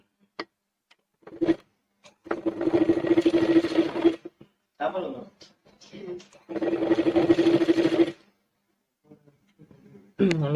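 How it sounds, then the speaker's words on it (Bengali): Sewing machine stitching a sleeve with white thread, two long runs of rapid, even mechanical rattling, close and loud, split by short pauses and lighter clicks as the cloth is repositioned. "এখন তোমরা লক্ষ্য করো আমি কি করে সেলাই করি।"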